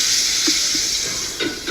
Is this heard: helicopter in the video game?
no